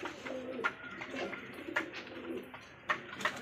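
Pigeons in a loft coo softly and repeatedly, low rolling calls with a few sharper notes, fairly close and quiet, with no talking.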